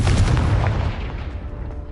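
A Confringo spell bursts in the Hogwarts Legacy video game as a loud, rumbling explosion that booms at once and then fades over about two seconds.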